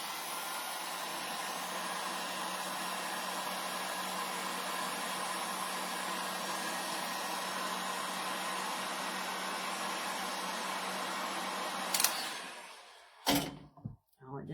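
A hair dryer blowing on a wet, wadded craft paper tag runs as a loud, steady whoosh for about twelve seconds, then switches off, followed by a few short thumps and handling noises.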